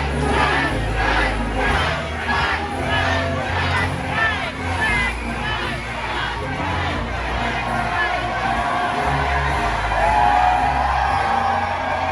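A medieval-style crowd raises a rousing cheer for a horseman, many voices whooping and yelling together in a loud, sustained roar that swells again near the end.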